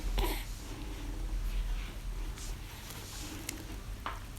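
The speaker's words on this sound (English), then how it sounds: "So I'm going to stir everything all together now" A spoon stirs a pot of tomato stew with soft chicken, giving soft squishing and scraping sounds over a gentle sizzle and low hum, with a few light clinks; no one talks.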